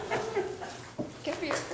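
A dog whimpers and yips in soft, broken bursts, heard over steady background chatter from people talking in a room.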